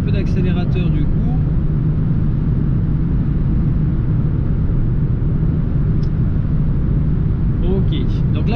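Steady, loud car engine and road-tyre rumble heard from inside a vehicle on a motorway at night, a continuous low drone with no clear rise in pitch, with brief faint voice fragments.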